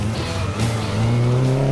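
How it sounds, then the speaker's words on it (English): All-wheel-drive race-class Mitsubishi Evo 8 on an autocross course, a loud engine roar rising in pitch with tire squeal over it, close and continuous. "an all-wheel drive race class Mitsubishi Evo 8"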